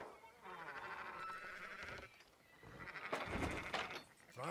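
Sheep in Red Dead Redemption 2 bleat repeatedly in a quiet ranch scene, a few wavering calls heard at low volume with faint ambient noise between them.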